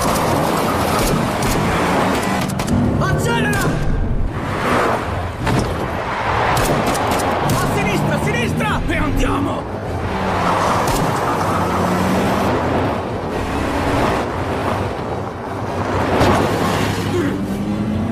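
A car accelerating in an action film, a continuous loud engine roar with rising and falling surges throughout, mixed with rushing road noise and occasional shouted voices.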